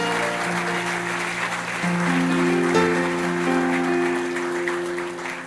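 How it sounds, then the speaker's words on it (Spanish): A church congregation applauding the King of Kings after a sermon, sustained dense clapping from a crowd that swells then slowly fades, with music or organ tones held underneath. "dele un fuerte aplauso al Rey de Reyes y Señor de señores"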